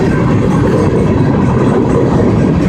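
A CSX freight train carrying maintenance-of-way equipment rumbles past close by, a loud continuous roar of wheels and railcars with a steady clatter.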